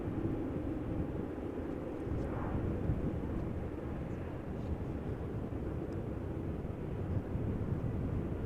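A Lufthansa airliner, eight years old, arriving at Amsterdam Schiphol Airport on a showery day, gives a steady low engine roar that holds evenly throughout, with no talking.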